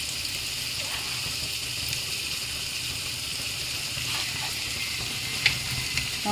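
A steady, hissing sizzle of lunch food frying in a pan carries on throughout, with faint occasional scrapes of stirring and a low background rumble.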